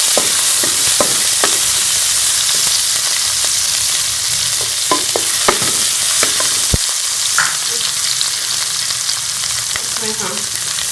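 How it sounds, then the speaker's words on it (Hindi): Green chilies and garlic paste sizzle and fry in hot ghee, a steady close crackle broken by occasional spoon stirs and scrapes against the pan. "इसी के साथ हम हरी मिर्चें और ये लहसुन का पेस्ट शामिल कर लेंगे।"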